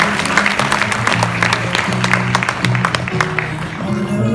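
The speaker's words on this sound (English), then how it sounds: "give real quick a round of applause for CZ and Bob" An audience at a blockchain conference fireside chat applauds the speakers Changpeng Zhao and Da Hongfei, with sustained clapping at moderate volume. Tonal voices and murmuring run beneath the clapping throughout.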